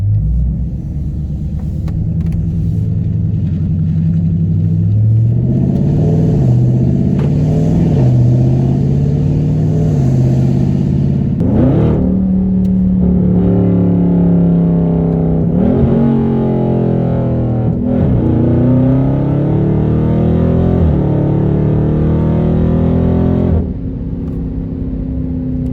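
A Dodge Charger 392 Scat Pack with a straight-pipe exhaust, mids and resonators deleted, idles with a deep rumble and then revs repeatedly, the loud engine climbing and falling in pitch, close up in the open country with no talk.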